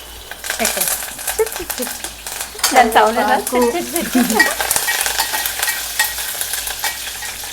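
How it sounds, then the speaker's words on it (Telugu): Curry leaves dropped into hot tempering oil with mustard seeds for sambar crackle and sizzle loudly up close, with stirring scrapes and a voice speaking briefly over the frying. "ఇవి కొంచెం చిటపటం అనేసరికి కరివేపాకు వేసుకోవాలి."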